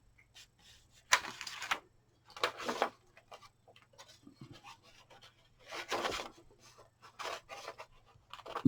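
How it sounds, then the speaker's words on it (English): Scissors cutting a pocket out of a paper book page, giving close, quiet bursts of snipping and rustling paper separated by short pauses. "I'm wasting way too much time cutting out this pocket"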